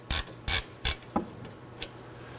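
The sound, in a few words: socket and ratchet on sway bar link nut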